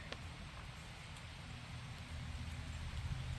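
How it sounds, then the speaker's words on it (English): Rain falling outdoors on a disc golf course, a faint, steady broadband patter that thickens slightly toward the end, with no voices. "Here comes the rain. You guys can hear it."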